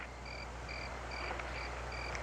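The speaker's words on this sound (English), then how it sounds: "big frog who croak" A frog croaks in a steady series of short, evenly spaced calls, faint over a constant low hum with no talking.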